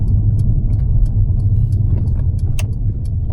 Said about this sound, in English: easing on the brake, clutch down, dropping down to second gear.